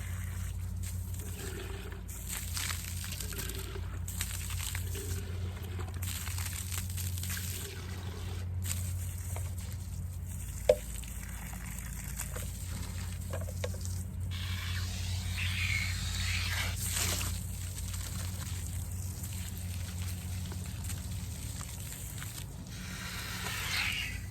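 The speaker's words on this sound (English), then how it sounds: "fill it up with water, and then run it through so that the clean water comes through the nozzle" A garden sprayer is rinsed out with water outdoors, producing a long stretch of faint trickling and splashing with intermittent hissy spurts from the nozzle over steady low background hum.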